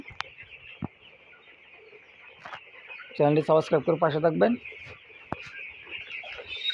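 Young broiler chickens about 17 days old, averaging 600 to 700 grams, cluck in a quick burst of rhythmic calls near the middle, set against a steady farm hum while someone talks before and after.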